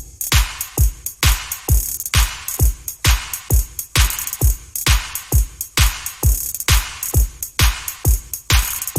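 A basic EDM percussion loop pounds steadily, with booming kicks on a regular four-beat pulse and harsh, bit-crushed hi-hats hissing between them, loud and dense, without voices.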